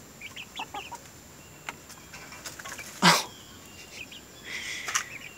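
Young Barred Rock chickens near a coop make scattered soft clucks and peeps, with one louder burst midway and a flurry of chirps near the end, close and with no talking.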